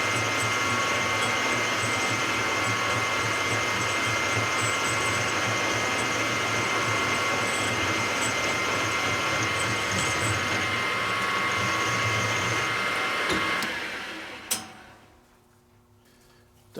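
Lathe turning a large earth mover cylinder with a carbide bit, throwing curly chips, a steady loud mechanical whir with fine ticking for about fourteen seconds before the machine winds down and stops, no voices.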